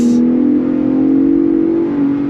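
A 2024 Ford Bronco Raptor accelerates under throttle, its engine note droning and climbing steadily from inside the cabin, smooth and moderately loud, then easing slightly at the end.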